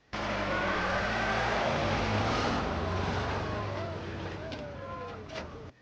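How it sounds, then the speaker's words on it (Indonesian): A military truck rolls slowly across an empty field, its engine a steady low rumble that stays close and even throughout, with faint bird calls over it near the end. "Truk melaju perlahan melewati ladang kosong."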